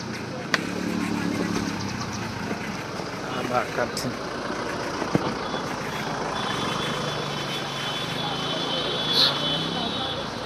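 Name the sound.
heavy road traffic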